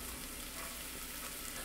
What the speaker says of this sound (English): then we'll add our shallots